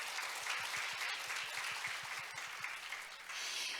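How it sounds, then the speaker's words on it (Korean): A forum opening ceremony in Jeju, where a hall audience applauds to welcome online participants. The clapping is continuous and moderately loud, with a low rhythmic thumping beneath it, and it swells again near the end. "환영의 박수 부탁드리겠습니다."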